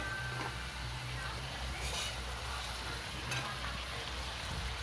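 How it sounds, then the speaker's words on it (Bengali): Potatoes go into a pan of sizzling chicken kosha, giving a steady, close frying hiss with faint stirring scrapes throughout. "এবার আলুটা দিয়ে দেবো।"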